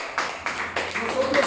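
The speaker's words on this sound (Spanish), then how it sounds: "Denle un aplauso al Señor." A Pentecostal church congregation claps together in a few rising bursts, with a voice speaking over the applause.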